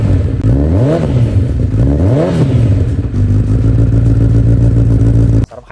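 A 2020 Honda CB1000R motorcycle with a full Yoshimura exhaust revs twice up and down, then holds a steady loud idle before cutting off abruptly.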